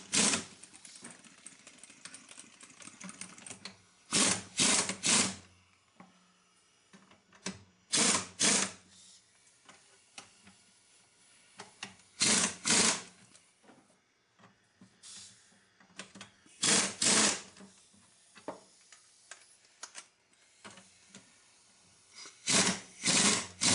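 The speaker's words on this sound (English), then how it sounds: "we're going to compress them using the air. We'll just do a little bit at a time on either side." An air-powered spring compressor tightens struts from a 2000 Mitsubishi Mirage in short repeated pneumatic bursts, each a loud rattling hammer lasting about a second, spaced several seconds apart with quieter workshop noise between.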